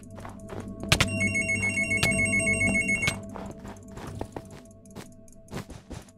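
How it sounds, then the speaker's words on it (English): A phone ringtone trills in repeated electronic bursts during a livestream, with sharp clicks and soft background knocks around it and no talk over the ringing. "And my phone's ringing"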